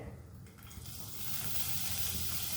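Grated garlic fries in a pan with hing and pepper, a soft hissing sizzle that swells and grows steadier over a few seconds, close and fairly quiet.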